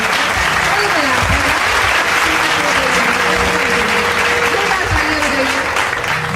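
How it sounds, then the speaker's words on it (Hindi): A crowd at a Shri Ram Katha religious recitation at a book fair breaks into loud, sustained applause, dense and continuous throughout, with a voice heard over the clapping. "एक बार तालियां बजाइए।"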